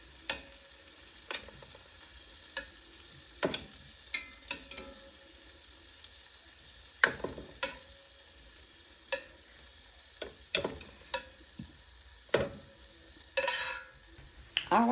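Homemade meatballs sear in a pan under a soft, steady sizzle. Sharp clinks and scrapes from a utensil cut in now and then, close and fairly quiet.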